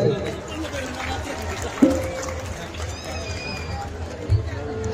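A stage audience at the Jhumka Mahotsav 2024 festival claps in a steady, dense wash of applause, with crowd murmur and a couple of sharp bumps mixed into the sustained noise.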